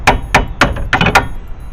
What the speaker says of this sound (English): I just tapped it with an aluminum hammer